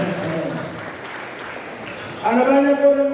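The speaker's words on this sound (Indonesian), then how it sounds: "sekali lagi beri tepuk tangan kepada Tuhan." A church congregation claps during an Indonesian sermon, a short burst of applause blending with a voice that rises over it near the end.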